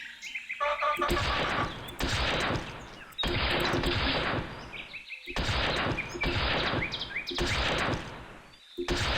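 Gunshots in the video game Moorhuhn Jagd, a series of loud bursts of shooting separated by short pauses, with bird squawks and game effects between them.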